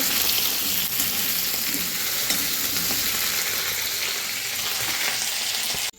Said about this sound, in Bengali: একদিকে কুমড়োর তরকারি করে বসাচ্ছি